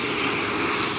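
A military helicopter's engine and rotor make a steady, dense roar, loud and continuous throughout, with no talking.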